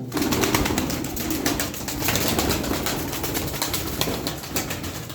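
Aksaray tumbler pigeons coo continuously nearby with busy rhythmic bird sounds and some wing flutters, a dense close chorus with no talking.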